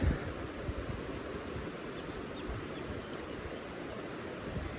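A river flows steadily, a continuous broadband rush of water with no pauses, fairly loud and close, alone without voices.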